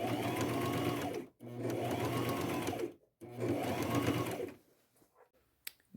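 Sewing machine running a straight stitch along a denim shirt, three steady whirring bursts of about a second and a half each with short pauses between, then quiet handling noises at the end.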